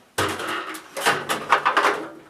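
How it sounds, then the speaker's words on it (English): A fiberglass step ladder is folded up, giving a sharp first clack followed by a run of rattling knocks and scrapes as the legs and hinges close, close and fairly loud with no talk. "Now we'll see if we can fold it up."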